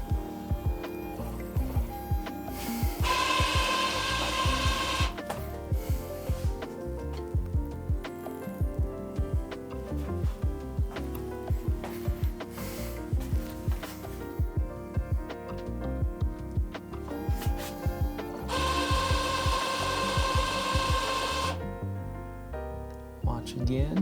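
A DTF printer runs a print head cleaning cycle, giving a steady mechanical hum with repeated ticking and clicking, broken by louder whirring bursts as the head moves, close and continuous.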